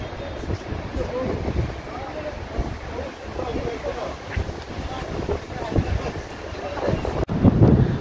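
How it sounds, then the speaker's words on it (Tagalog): Strong wind buffets the microphone in a constant rough roar behind a church in Tbilisi, Georgia, with gusts swelling louder near the end. "medyo malakas yung hangin, pero ang sarap ng hangin dito guys, malamig"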